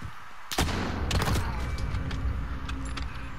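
Gunfire in Call of Duty: Modern Warfare rings out as a sharp close shot followed by a scattered run of quieter cracks and clatter over steady game ambience.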